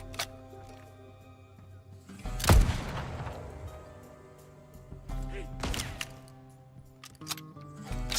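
Gunfire in the open-world western survival game Legend of California, with two loud, sharp shots a few seconds apart over a steady ambient game bed, followed by lighter impacts while a player talks.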